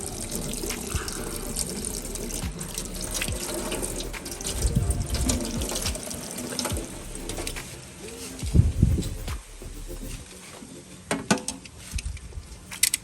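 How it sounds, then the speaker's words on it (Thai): Tap water runs steadily over a caladium bulb being scrubbed clean, with splashing surges and handling knocks, birds cooing in the background and a voice speaking at times. "ก็เอาบอลสีมาล้างหัว ล้างให้สะอาดแล้วก็ดูเขียว"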